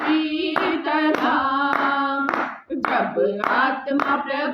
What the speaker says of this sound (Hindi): मैं ताली बजाऊंगा